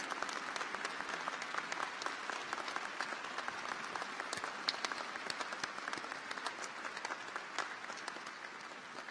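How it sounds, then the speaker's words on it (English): Sustained applause from the audience at a law school graduation ceremony, dense steady clapping from a crowd heard at a distance for the full stretch. "Let us please give Mr. Robert Judge Ames a round of applause to honor his distinguished career that began as a graduate of this law school."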